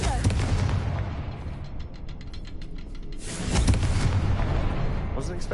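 Confringo blasting spell in a Hogwarts video game detonates with a loud, booming explosion, followed by rumbling debris and a second heavy blast, with no talk over it.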